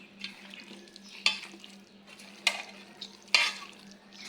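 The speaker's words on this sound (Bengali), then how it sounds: "এবার ভালো করে মাখিয়ে নেব আমি গোশতটা" Beef being mixed with ground chili and spices in a pot, with soft stirring scrapes, a faint sizzle underneath and three sharp clinks of a spoon against the metal rim spaced about a second apart.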